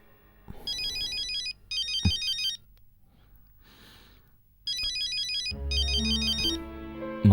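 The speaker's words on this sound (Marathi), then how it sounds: "मावशीचा फोन आहे." A mobile phone ringtone chirps in three repeated bursts with quiet gaps between them, fairly close, and music swells in near the end.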